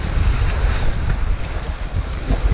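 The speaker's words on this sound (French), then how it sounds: "On a 18 nœuds de vent apparents établis. Donc de temps en temps il y a des petites rafales." Loud, blustery wind roars across the microphone on a sailboat at night in the Gironde channel, about 18 knots apparent wind, with rushing water and gusts swelling and easing, no voices.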